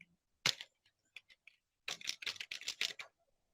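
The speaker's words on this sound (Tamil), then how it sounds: "பாருங்க, நான் டைப் பண்ணும்போது" Bursts of keystrokes on a computer keyboard while typing Tamil text into Photoshop, a short cluster followed by a faster run of clicks, close and crisp with quiet gaps between.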